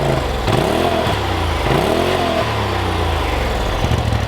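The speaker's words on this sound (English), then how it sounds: "Give me a couple of revs." A Polaris RZR Turbo S engine on its stock exhaust revs up sharply twice in quick succession, then settles into a steady, fairly quiet idle, heard up close.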